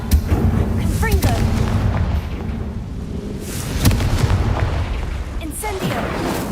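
Confringo blasting spells explode in the video game Hogwarts Legacy, loud booming bursts over a dense rumbling battle bed, with several sharp cracks and a voice talking amid the blasts.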